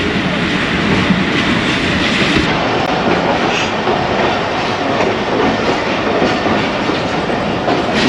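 A train hauled by locomotive GU409019 runs on rails near Khanewal Junction on the Karachi Express, a loud, constant roar of wheels and carriages with dense clattering and no voices.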